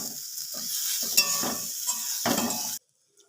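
Crushed-peanut filling being stirred in a pan over low heat, a steady soft sizzle with repeated scraping strokes of a utensil and a few light clinks, ending abruptly in silence.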